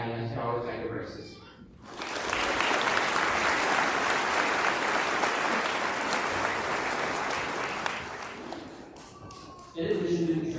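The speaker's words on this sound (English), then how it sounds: "And now I'd like to have another round of applause for all the family and friends who have been here supporting us" A graduation audience at a high school ceremony breaks into sustained applause that swells, holds for several seconds, then fades, with voices heard before and after.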